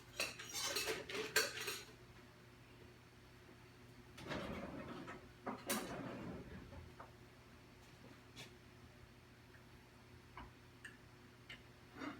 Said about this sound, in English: I'm going to plate up the coconut bread pudding. I'm going to cut out a very nice slice.